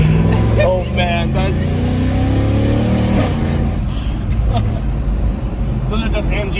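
A Mercedes-AMG car holds a long burnout on new tires, a loud sustained engine roar with rising revving harmonics and steady tire noise throughout, with a voice speaking over it.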